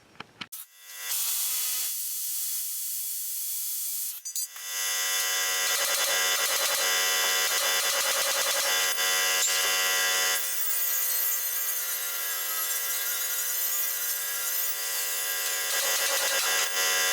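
A power drill bores holes into a steel plate for a Chevy C10 fuel tank crossbar, giving a steady, loud, high-pitched whine that starts briefly, pauses, then runs continuously for a long stretch.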